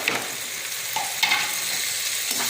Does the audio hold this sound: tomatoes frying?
yes